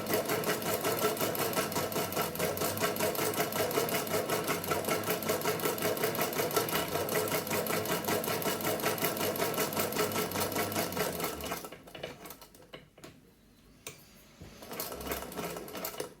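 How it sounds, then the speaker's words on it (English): A sewing machine stitches steadily through a fabric bowl cover in a fast, continuous close-up whir, then stops abruptly near the end, leaving a few faint clicks and handling noises. "Just going to do a back stitch just to knock that off."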